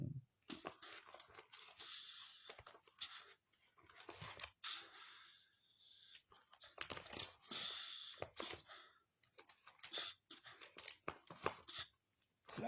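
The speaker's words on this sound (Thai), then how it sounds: "ใส่เหรียญ" Repeated metallic clinks and clatters of coins dropping into a slot, coming in quick bursts with short gaps, fairly close and without any voices.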